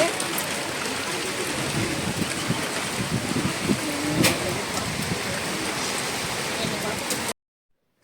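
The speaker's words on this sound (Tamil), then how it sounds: "எங்கள் ஊருக்கு ஒரு வருஷம் கழிச்சு இப்போ தான் மழை வந்துருக்கு" Rain pours in a village, with gusting wind, as a dense, even hiss close by, running unbroken for about seven seconds before cutting off abruptly.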